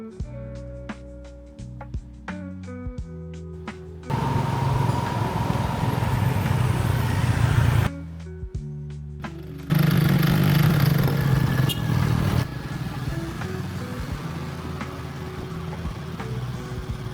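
Motorcycle and car engines hum and rev along a busy Vietnamese city street, the traffic noise swelling louder in stretches, with clatter and occasional musical tones early on.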